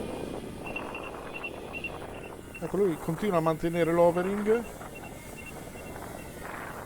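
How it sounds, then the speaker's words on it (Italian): Gusty wind buffets a microphone near a small Autel Evo Nano Plus drone hovering by the sea, a rough low rumble rising and falling, with a faint drone whine and someone talking over it in Italian. "Adesso il vento è un po' aumentato, ci sono un po' di raffiche"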